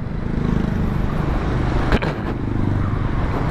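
A motorcycle rides behind and then passes a slow vehicle on the road, with a steady loud engine drone and wind rush, a brief whooshing pass near the middle, then the drone carrying on.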